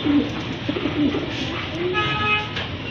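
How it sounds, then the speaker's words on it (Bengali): A pair of Lahori pigeons coo in low, repeated phrases, fairly close, over a busy background hum; a distant horn-like tone sounds near the end. "আর এক জোড়া কবুতর, এটা হচ্ছে খুবই সুন্দর কোয়ালিটিফুল এক জোড়া লাহোরি কবুতর"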